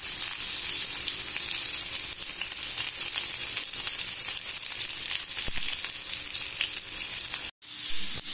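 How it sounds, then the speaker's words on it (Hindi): Onion and crushed garlic fry in a pan for dal tempering, giving a loud, steady sizzle that fills nearly the whole stretch, with a brief cut near the end before the hiss resumes. "प्याज डाल रहे हैं, लहसुन जरा कूट को डालना, अच्छा तले आने प्याज।"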